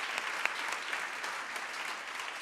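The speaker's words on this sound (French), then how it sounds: "On peut les applaudir." An audience in a hall applauds partner associations of the Hello Women programme, a steady continuous round of clapping with a few sharper individual claps standing out.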